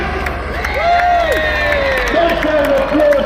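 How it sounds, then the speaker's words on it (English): Crowd at the Aldershot Raceway Ramp Rollover Competition cheering and applauding the winner, a steady wash of clapping and whoops with a voice calling out over it through a PA. "Nice round of applause for Jordan King, the winner of the Ramp Rollover Competition"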